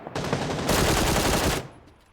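Dense, loud automatic gunfire from the battle royale video game PUBG, a continuous rapid burst of about one and a half seconds that cuts off abruptly, with no voices.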